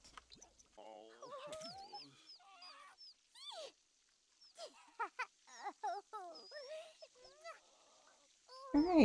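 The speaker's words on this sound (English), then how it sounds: "That egg that was incubating is ready to hatch." In a life-simulation video game, a chick hatches from an incubated egg, giving a run of short chirping and honking bird calls with pauses between them, and a louder burst at the end.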